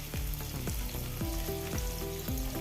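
Mackerel pieces frying in hot oil with masala in a pan, a steady dense sizzle that fills the whole stretch, loud and close, no speech.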